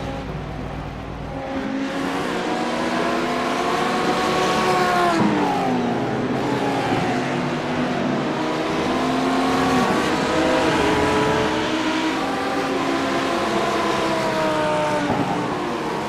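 Race cars in a sports car championship race at Indianapolis drone continuously, several engines holding and shifting pitch together in a loud, sustained roar with rising and falling tones and brief lifts as drivers ease into fuel saving.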